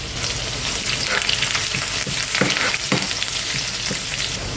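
Garlic, onion and dried red chillies frying in hot oil in a pan, a loud, dense, continuous crackling sizzle with occasional stirring scrapes, close and unbroken throughout, with no voices.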